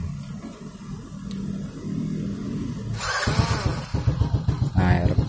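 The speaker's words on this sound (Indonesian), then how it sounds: "Tuh, digas sedikit dia langsung naik RPM nya." A Honda Supra 100cc motorcycle idles quietly under a faint steady hum, then the throttle is opened and the engine rises into a louder, rattly rev close by.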